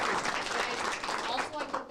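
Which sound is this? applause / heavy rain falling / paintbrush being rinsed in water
applause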